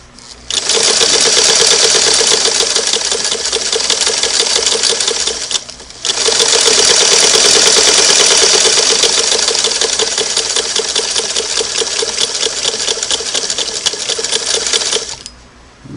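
A Singer Model 99K sewing machine runs close and loud, a fast even needle clatter sewing in reverse, with a brief pause near the middle before it starts up again and carries on to the end; no voices.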